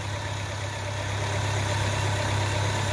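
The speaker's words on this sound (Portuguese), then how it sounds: "Olha o funcionamento do carro." A 2003 Fiat Strada's engine idles smoothly after its throttle body was cleaned, a steady close low hum and vibration with an even, unbroken rhythm and no voices.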